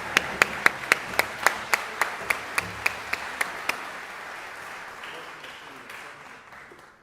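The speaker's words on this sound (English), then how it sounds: "And about another round of applause for this band." Applause for a youth jazz ensemble at a music camp concert. A dozen or so sharp, evenly spaced claps stand out up front over a wider spread of crowd clapping that fades gradually.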